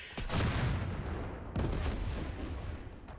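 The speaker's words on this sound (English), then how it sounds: "So we're going to fire at the AT gun here." A tank cannon firing at an anti-tank gun in the WW2 strategy game Total Tank Generals, Operation Torch: two loud, booming shots about a second apart, each with a sharp crack and a long rumbling decay, with no voices.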